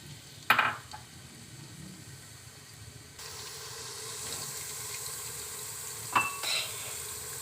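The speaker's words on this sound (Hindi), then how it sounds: "प्याज को हमने ब्राउन करना है" Onions frying in about two tablespoons of oil in a pan for a turnip and fenugreek sabzi, a steady close hiss and sizzle, with a couple of sharp spoon or pan clinks and the sizzle swelling partway through.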